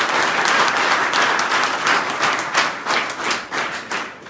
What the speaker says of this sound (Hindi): बजाकर रिस्पेक्ट कर